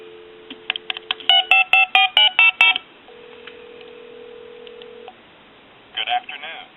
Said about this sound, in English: we'll go ahead and give you some dial tone